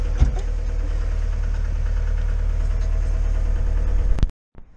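Camper van engine running steadily while driving, a loud, continuous low rumble that holds evenly for about four seconds, then cuts off abruptly into near silence.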